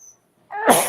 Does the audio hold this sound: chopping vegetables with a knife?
no